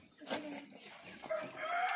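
A three-legged hen gives a few faint, brief clucking calls up close in a quiet farmyard setting. The calls are short and repeated.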